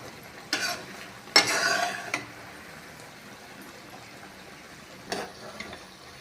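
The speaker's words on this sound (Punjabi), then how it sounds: "ਆਪਣੀ ਚੀਨੀ ਦੀ ਚਾਸ਼ਨੀ ਬਣ ਗਈ ਆਪਾਂ ਨੂੰ ਚੰਗੀ ਤਰ੍ਹਾਂ ਰਝਾ ਲਾਂਗੇ" Sugar syrup for amla pickle cooking in a pan, with a few short scraping stirs and faint bubbling between them, quiet and close, no talking.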